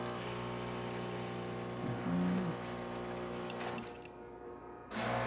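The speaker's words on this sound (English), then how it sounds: "Coffee coming out, good color, good cream as well." A Jura coffee machine pumps and brews coffee with a steady mechanical hum and liquid flow, a brief louder pump surge in the middle, then a drop and a small restart, close and without talk.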